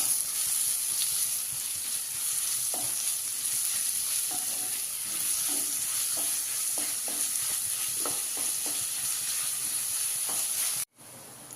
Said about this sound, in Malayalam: ഇതൊന്ന് വഴന്ന് വരട്ടേട്ടാ